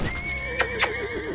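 A horse in the video game Conan Exiles lets out a close, loud whinny with a wavering, trailing pitch, alongside a couple of sharp hoof clops.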